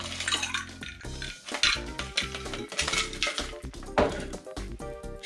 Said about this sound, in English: we'd have it on the rocks.